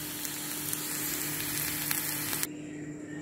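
Fried potatoes being stirred in a hot pan: a steady, close sizzle and crackle of oil with light scraping of the stirring, which cuts to a quieter hiss near the end, with no talk.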